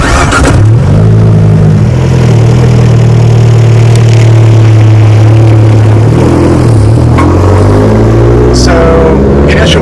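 Car engine running steadily while driving on a test drive after a torsion bar install, loud and close with sustained low hum and rising revs, shifting pitch through gear changes; faint voices underneath.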